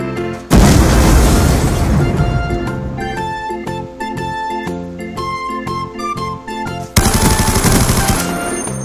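Bazooka blasts and rapid gunfire in the shooter game Black Ops 2, loud and continuous, with booming explosions and dense bursts of shots layered over game effects and chimes.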